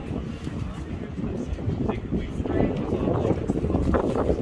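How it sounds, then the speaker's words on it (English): Strong wind buffets the microphone in a constant, loud roar of low rumbling gusts on a rainy day along the Thames at London's Southbank, building slightly toward the end. "It's so windy."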